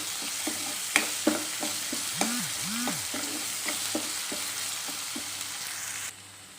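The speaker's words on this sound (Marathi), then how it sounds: "हे चांगलं परतून घेऊया। आलं लसणाचा कच्चा वास सगळा गेला पाहिजे।" Ginger garlic paste sautés in hot oil in a pan, a steady close sizzle with scattered clicks and scrapes from stirring, fading slightly at the very end.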